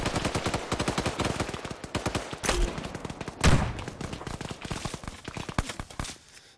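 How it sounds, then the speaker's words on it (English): Gunfire in the video game Arma 3, with a grenade launcher in use: rapid, dense bursts of shots crackle almost without pause, and one heavier, booming blast stands out midway. "Don't know whether that grenade launcher got him."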